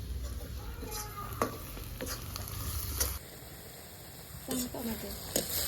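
Food sizzles and crackles in a wok-style pan over a wood fire, a steady frying hiss with occasional stirring clinks, close up and fairly quiet.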